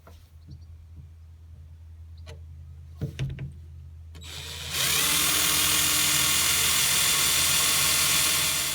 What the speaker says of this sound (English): mark the holes and drill them ready to take the screws